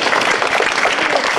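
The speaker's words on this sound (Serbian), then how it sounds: "molim aplauz, ovaj odgovor" A roomful of children and adults applaud a correct answer, loud, dense clapping that holds steady throughout.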